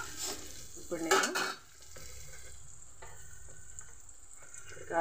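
A pan fries the base for a fish-style curry made without fish. A burst of spoon-stirring clatter comes near the start, then a steady close sizzle continues.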